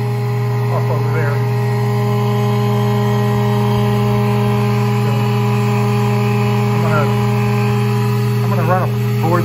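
A 1951 Delta 13x5 wood planer runs with a steady, even motor hum that is loud and unchanging throughout, while faint voices come and go beneath it.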